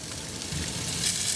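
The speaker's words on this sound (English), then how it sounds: "I've turned them up, and they're grilling nicely." Food grills over high heat, giving a steady, close hiss of sizzling fat that rises slightly over the short stretch, with no talking.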